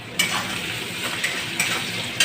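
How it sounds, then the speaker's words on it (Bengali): Chopped onion with green chilli frying in oil in a pan during prawn curry cooking, a steady sizzle broken by four sharp clinks of a spatula stirring against the pan. "পেঁয়াজটাকে ভেজে নেবো।"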